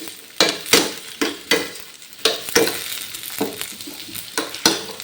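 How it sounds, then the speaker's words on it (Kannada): Tomatoes for mushroom tikka masala fry in a pan over medium flame, with a close, steady sizzle and repeated sharp scraping stirs every half second or so, loud and without talk. "ಇದನ್ನು ಕೂಡ ಒಂದು ಸ್ವಲ್ಪ ಒಂದು 2 ಮಿನಿಟ್ಸ್ ಫ್ರೈ ಮಾಡಿಕೊಳ್ಳಿ"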